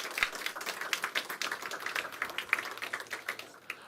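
An audience at a talk gives a round of applause, a dense run of fairly quiet hand claps that continues evenly with no voices over it.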